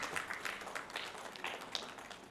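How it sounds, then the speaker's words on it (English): Steady applause from a crowd, many hands clapping continuously and fairly evenly for a couple of seconds. "Can we have a huge round of applause for Mr. Nilesh?"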